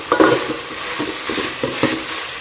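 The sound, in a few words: sautéing onion, ginger garlic paste and tomato for veg biryani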